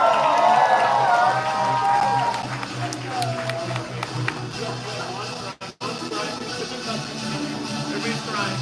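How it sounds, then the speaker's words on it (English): A crowd at a family celebration applauds and cheers for a couple, with dense clapping and excited voices under ongoing talk, fading a little partway through before resuming. "a big round of applause for Mr."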